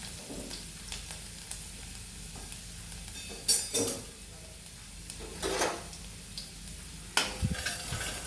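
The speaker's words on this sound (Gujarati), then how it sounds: "તેલ ગરમ થઈ જાય ત્યારે આપણે આમાં અડધી ચમચી જેટલી રાઈ નાખીશું અને રાઈને ફૂટવા દેશું" Half a spoon of mustard seeds crackles and spits in hot oil in a pan, a steady sizzle broken by a few sharper popping bursts and utensil scrapes, heard alone without talk.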